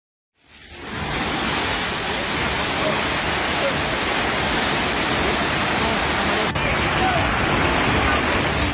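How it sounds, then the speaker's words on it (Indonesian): Overflowing river floodwater surges into a residential neighborhood in Liato, Gorontalo, during extreme weather; a dense, loud, unbroken rushing roar of water begins suddenly and fills the whole stretch with no voices. "Inilah detik-detik meluapnya air sungai di wilayah Kecamatan Liato, Kota Gorontalo yang menerjang permukiman warga."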